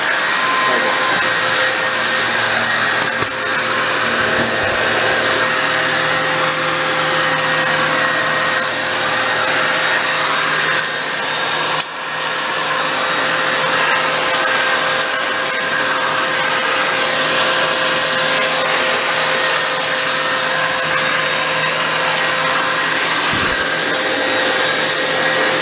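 A Black & Decker BDASV104 vacuum cleaner runs continuously at close range, a loud steady motor whine with a constant airflow roar, a brief dip near the middle as it shifts, no voices.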